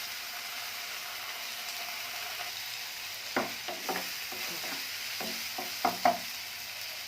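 Noodle sauce of soy and tomato sauce sizzling quietly in a pan while being stirred, with a soft steady fry and a cluster of scraping stirring strokes midway.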